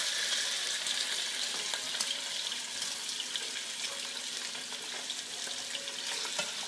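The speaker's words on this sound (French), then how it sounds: "On va commencer à mettre des morceaux de viande." Meat pieces frying in olive oil for a Dominican sancocho, a steady close hiss and sizzle with faint crackles and light clinks, no voices.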